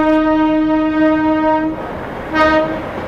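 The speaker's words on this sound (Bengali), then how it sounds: "সামনে একটা টয় ট্রেন আসছে" A diesel Darjeeling toy train sounds its horn as it approaches, a loud sustained multi-tone blast that stops, then a shorter second blast over rumbling engine noise.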